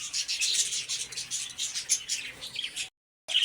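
Many small caged birds at Lalukhet Sunday bird market chirp and tweet at once in a dense, bright chatter that cuts out briefly before resuming.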